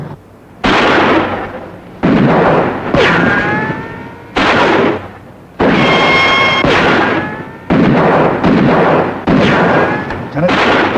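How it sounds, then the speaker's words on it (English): Heavy gunfire from an unusual gun in a 1958 crime film, a series of loud, booming shots about one per second, each ringing out with a long echoing tail. "That's no ordinary gun he's using, not by the sound of it."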